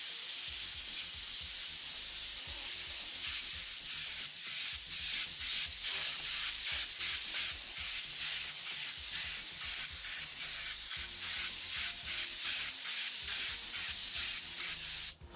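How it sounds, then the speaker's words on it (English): An airbrush sprays transparent sun gold yellow paint in a light coat from 10 to 12 inches away, a steady, even hiss that runs unbroken at close range with no voices. "I get a nice dusting, a wide spray, no streaks or anything"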